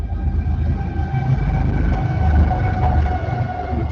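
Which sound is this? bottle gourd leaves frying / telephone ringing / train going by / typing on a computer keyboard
train going by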